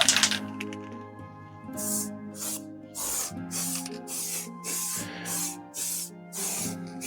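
Lexan-safe spray paint hisses from a can onto a clear RC car body shell in short bursts of about a second each, repeated nearly a dozen times at close range, over a faint background hum.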